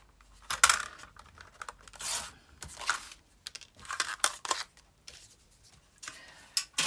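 A small paper trimmer slices through paper with a series of close, sharp scraping and rustling cuts, uneven in rhythm, with brief quiet gaps between strokes.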